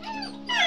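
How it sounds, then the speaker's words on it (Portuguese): A Belgian Malinois dog whimpers in thin, high, drawn-out whines that rise sharply near the end, close and fairly clear with no talking. "Pastor belga, Malinois, dos melhores cães de guarda de todos os tempos."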